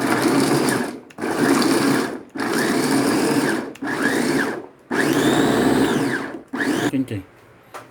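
A food chopper grinds chicken meat with garlic for chicken shanghai, its motor whirring loudly up close in about six sustained bursts separated by short pauses, and the last burst is cut short.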